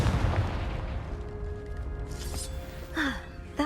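A Confringo blasting spell goes off in Hogwarts Legacy, heard as a sudden burst amid a busy, rumbling game soundscape with a brief bright crackle near the end.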